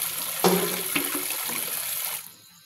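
Tap water runs steadily with a broad hiss and splash for about two seconds, with a few sharper splashes and knocks near the start, then cuts off into quiet.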